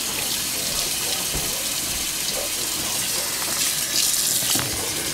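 Warm water runs from a tap in a continuous, fairly loud hiss and gush with slight splashing, steady from start to finish.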